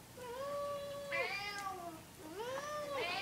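Cats meow repeatedly while waiting for tuna, several clear drawn-out meows close by and moderately quiet, with no talking.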